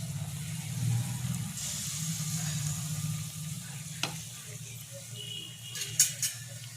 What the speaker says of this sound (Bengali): আর এটা একটু মিডিয়াম আঁচে ভাজবেন, খুব জোরে দেবেন না